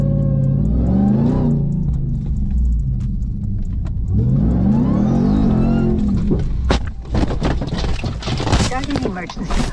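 A souped-up Ram TRX pickup's engine revving in loud, rising surges that then fall away, followed by sharper clattering noises, with people talking over it throughout.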